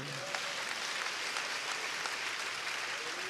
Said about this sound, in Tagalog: Palakpakan natin ang ating mahal na Panginoon.